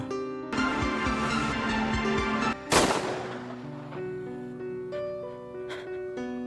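A single sharp pistol shot rings out in a film scene, a loud sudden crack partway through that decays into a lingering tail over a tense musical score.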